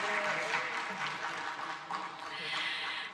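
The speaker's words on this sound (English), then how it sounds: "can we get another round of applause just to bring back the energy?" Applause from a forum audience at a regional sustainability event, a steady, dense wash of clapping that fills the whole stretch at moderate level, with some voices mixed in beneath.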